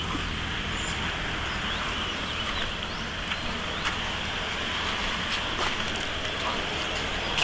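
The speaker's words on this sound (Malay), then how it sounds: "macam ada hujan ni" Steady rain hisses by the Chempias river during a net-fishing trip, a constant wash with faint scattered drips and ticks, while people talk over it.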